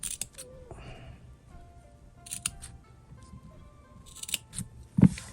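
Scissors making a few crisp, separate snips while crafting a handmade gift, with quiet handling noise between the cuts.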